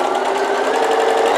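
A sewing machine stitches a fabric seam on a gift box project, a loud, fast, even motor buzz with a rapid needle rhythm running continuously at close range.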